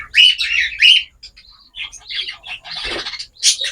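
Breeding cockatiels chirp and tweet close by in loud, bright bursts, with short pauses between the calls.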